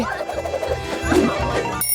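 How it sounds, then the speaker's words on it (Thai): An alarm clock rings with bright, sustained tones that waver and restart for about two seconds, loud and close. "เฮ้ยนาฬิกาปลุกแล้วสินะ ถึงเวลาตื่นแล้วสิ"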